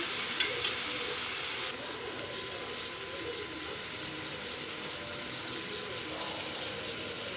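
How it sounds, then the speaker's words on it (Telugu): Tomato pieces and green chillies fry in a pan with a steady, even sizzle. A brief brighter burst comes at the start, and after that the sizzle stays fairly quiet and constant, with no voices. "2 పచ్చిమిర్చి, అది వేగాక టమోటాలు ముక్కలు వేసుకోవాలి. వేసుకున్నాక కొంచెం బాగా మగ్గనియ్యాలి."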